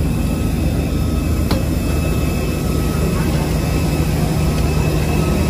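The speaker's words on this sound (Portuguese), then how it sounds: "Olha o avião, o tamanho" A large airplane's engines roar loud and constant throughout, a steady broadband drone with no pause.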